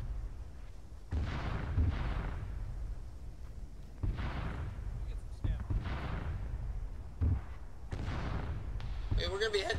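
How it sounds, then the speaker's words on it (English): An artillery barrage in Arma, a military simulation game, with deep booming impacts and rumbling blasts arriving every second or two, heavy low-end thuds layered over continuous background roar. "Well, it's all kind of an artillery barrage"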